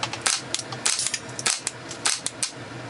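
A Ruger 10/22 rifle fed from a high-capacity Remington magazine fires a rapid series of sharp, close cracks at an uneven pace, about a dozen shots.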